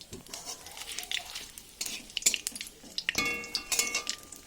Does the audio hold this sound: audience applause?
no